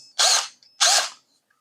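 Two short, harsh bursts of a power drill with a sharpened bit biting into wood, each about half a second, separated by a brief pause.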